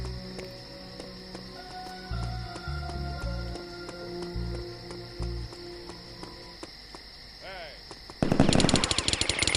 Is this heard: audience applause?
no